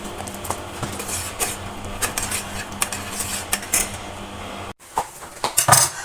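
A spoon scrapes and clinks repeatedly against a metal pot while stirring honey syrup, uneven strokes close by, with a brief silence before the clinking resumes.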